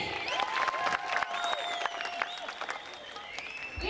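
Audience applause rings out at a Mappilappattu stage show, dense steady clapping from a crowd mixed with singing or held musical notes and a few cheers.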